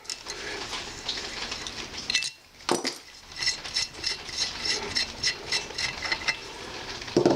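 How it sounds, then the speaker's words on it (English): Spark plug being worked loose and pulled from the cylinder head of an NSU Quickly TT moped engine during a motorbike restoration, with light metallic clinks and scraping ticks, a brief quiet gap, then irregular close tool clatter. "The thing to do now is to take out the plug, which I've loosened already, so that's going to come out."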